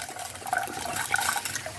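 A glass of water poured into a saucepan of burger sauce made with Jack Daniel's and pineapple juice, a soft continuous splashing trickle, close and quiet, with no talking.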